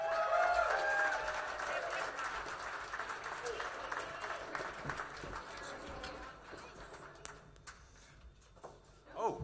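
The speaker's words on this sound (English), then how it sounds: "Give them a round of applause." An audience claps at a live Irish-language music event as presenters are called up to the stage; the applause is steady and fairly loud, with a background of crowd murmur and a brief tonal sound near the start.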